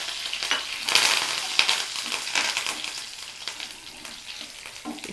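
Curry leaves crackle and sizzle in hot oil for a Telugu cabbage fry, with bright spitting bursts over a steady frying hiss and occasional stirring scrapes, close and fairly loud.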